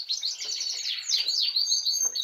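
Pet birds kept together at a shared feeder chirp and tweet in quick, high overlapping bursts, close and fairly loud, going on continuously with no talking.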